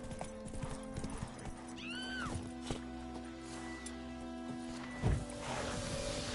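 Geralt's horse Roach from The Witcher 3 gallops in a steady clip-clop of hooves, with a whinny partway through and a thud near the end, set against a low game soundscape.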